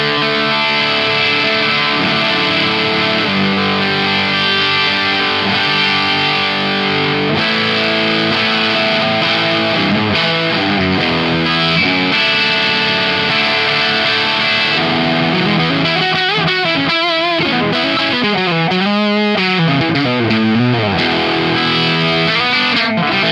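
Les Paul electric guitar played through an Organic Sounds Organic Drive overdrive pedal turned to full gain, loud saturated chords and sustained bending lead notes with a dense, fuzzy tone, playing continuously with no talk.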